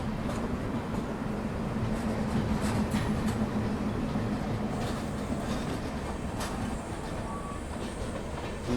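A crowded Secunderabad–Repalle express passenger train rumbles steadily along with a continuous, loud clatter of wheels on track and faint squeals throughout, no voices.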